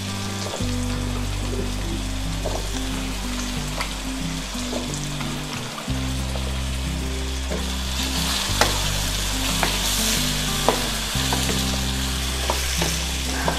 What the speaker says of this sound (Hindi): आलू ऐड कर रहे हैं।